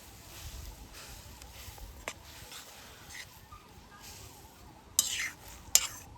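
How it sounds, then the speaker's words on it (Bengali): Hibiscus flowers and leaves are mixed for a hair serum, giving faint, quiet stirring and scraping in a bowl, with two sharper clinks of utensil against the container near the end. "এই দুটো উপকরণ ভালো করে মিশিয়ে নেব।"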